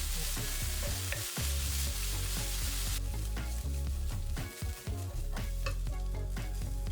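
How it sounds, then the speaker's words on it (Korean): Shredded dried squid sizzles and crackles steadily in a pan over medium-low heat, a continuous close frying hiss with faint stirring scrapes throughout. "오징어채는 중약불에 볶아서 감칠맛을 올려줍니다."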